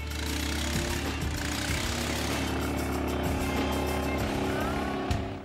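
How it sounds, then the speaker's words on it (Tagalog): A motorized boat built of sturdy wood, used for river rafting in a strong current near San Juanico Bridge, gives off a loud, steady engine drone with rough mechanical rattle that holds throughout. "demotor na bangka na gawa sa matibay na kahoy ang gamit sa kanilang water rafting"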